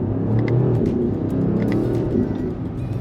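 A 2025 BMW XM SUV accelerates hard, its engine roaring loudly and steadily under full throttle for a few seconds from inside the cabin, with no one speaking.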